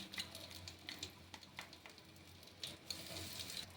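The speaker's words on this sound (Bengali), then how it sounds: "ডালটা ফোড়ন দেবো, এর জন্য আমি শুকনো লঙ্কা দেবো ফোড়নে একটা, আর দিয়ে দেবো তেজপাতা, দিয়ে দেবো অল্প একটু হিং" Dried red chili and bay leaf sizzle in hot oil while tempering dal, a steady close crackle with small bursts of spitting, heard alone.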